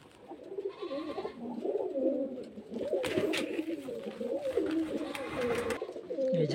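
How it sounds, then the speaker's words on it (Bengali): Pigeons coo repeatedly at a pigeon sale in Beldanga, Murshidabad, a steady overlapping chorus of domestic and foreign birds with rustling and wing movement in the background. "বিদেশি দেশি সব রকম পায়রা আছে"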